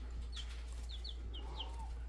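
Several short clucks from chickens, spaced irregularly and fairly distant, over a steady low hum in an otherwise quiet setting.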